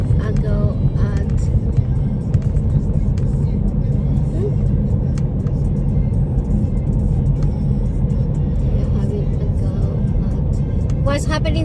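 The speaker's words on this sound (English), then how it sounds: "right now there's lots of traffic" Steady low rumble of a car being driven to work through heavy traffic, continuous engine and road noise close by throughout.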